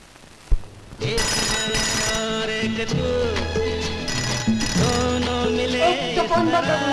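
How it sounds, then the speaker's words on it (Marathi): A telephone rings repeatedly indoors with a bright, insistent bell tone that keeps going for several seconds, opening after a sharp knock-like thump. "कुणीतरी घ्या ना तो फोन"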